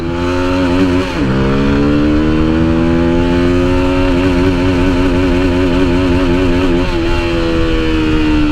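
A Lifan KPT 150 4V fuel-injected motorcycle accelerates hard in second gear, its engine pitch rising steadily after a brief dip at a shift, loud and close with buzzing wind noise throughout and no talking.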